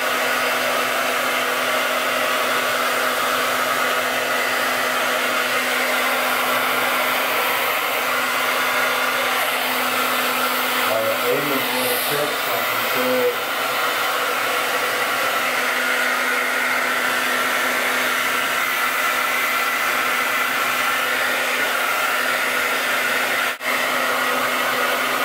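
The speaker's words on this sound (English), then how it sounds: "So they can see how you dry your hair." A hair dryer blows steadily and loudly on dreadlocks being retwisted, a constant airy roar running the whole time with slight shifts in pitch as it moves around the head.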